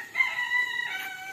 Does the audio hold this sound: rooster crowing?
yes